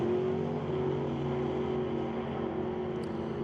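Drag race cars accelerating at a Super Street race, a Dodge with a big Mopar engine against a smaller Chevrolet, a steady loud engine roar with strong low harmonics holding through the run.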